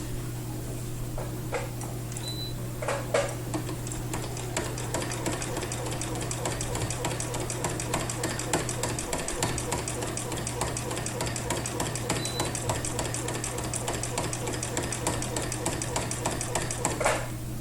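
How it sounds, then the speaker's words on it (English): A sewing machine stitches steadily during free motion quilting, its rapid needle chatter running evenly over a constant low motor hum as fabric is pushed through by hand, with occasional faint clicks and no talk. "now I'll have this long portion that I'll be pushing the fabric through the machine"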